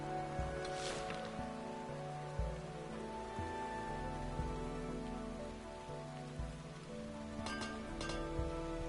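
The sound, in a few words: rain falling in a vineyard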